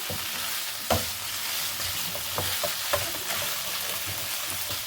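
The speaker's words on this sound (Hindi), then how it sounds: "इसे हम अच्छे से भून लेंगे।" Chicken, already softened under a lid, stir-fried in a pan: a steady close hiss of frying broken by a few sharp scrapes and knocks of a spatula against the pan.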